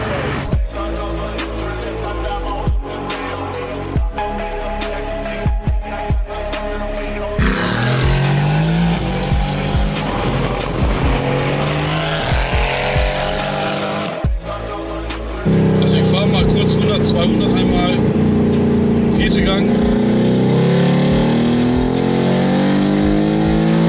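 A loud car engine roars and revs repeatedly, with harsh bursts and sustained high-pitched drones, close and dominant throughout.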